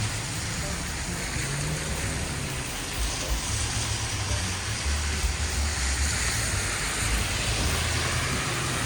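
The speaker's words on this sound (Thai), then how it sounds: "ดูข้างหน้านะดูฝนตก" Overnight rain falls steadily outdoors, a dense continuous hiss of drops with a low rumble beneath, even and unbroken throughout, with no talk.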